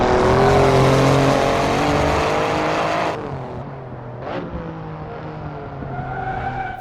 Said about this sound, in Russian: Машина выходит из последнего поворота, ну, вернее, не последнего, а поворота на прямую, такой шпильки своеобразной, и начинает разгоняться